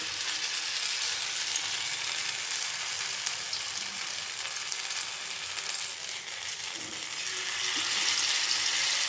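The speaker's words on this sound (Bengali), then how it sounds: "এবার আমি এই টিক্কিগুলো দেখো ছেড়ে দিচ্ছি তেলের মধ্যে।" Spinach tikkis sizzle in hot oil over a low gas flame, a steady bright crackle and hiss that runs throughout and swells slightly near the end, with no voices.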